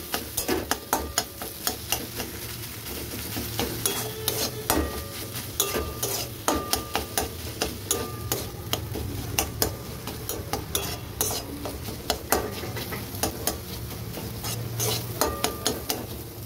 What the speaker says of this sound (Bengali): একটা আলু সেদ্ধ দিয়ে দেবো। দিয়ে এটাকে আবার ভালো করে মিশিয়ে নেব।